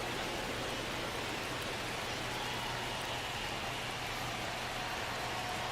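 Steady rain falls on the field in the video game MLB The Show 25, a soft, even hiss with no breaks, quiet and constant throughout.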